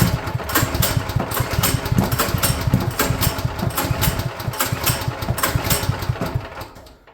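A Champion generator's small engine runs steadily near at hand on its first start in years, its loud chugging pulse irregular and rough with occasional popping backfires before the sound trails off at the end.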